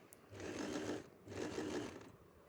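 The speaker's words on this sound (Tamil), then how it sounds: "இந்த சைடுமே தைச்சி எடுத்துக்கோங்க." A sewing machine stitches a coat collar in two short, even bursts of rapid whirring separated by a brief pause, heard up close and fairly faint with no voices.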